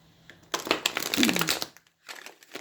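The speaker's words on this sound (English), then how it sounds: "So let me just shuffle these for you." A deck of tarot cards is shuffled by hand, close and crisp, with a long riffling burst of papery crackles, a short pause, then a few more quieter shuffles.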